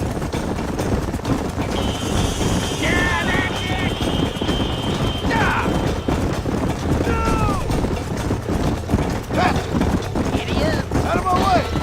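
Horses gallop in a race in Red Dead Redemption, a rapid drumming of hooves under shouted riders, squealing whinnies and busy crowd and game noise throughout.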